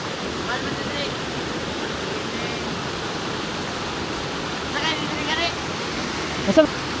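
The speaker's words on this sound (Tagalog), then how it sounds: "mayroon tayong mini falls dito sa Bukidnon area" A small mountain waterfall in Bukidnon gives a steady, even rush of falling water that fills the whole stretch, with faint voices here and there.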